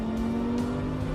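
An Audi R8 race car at speed on the Le Mans circuit, its engine holding a loud, steady drone with a strong constant tone, close and continuous, with no voices.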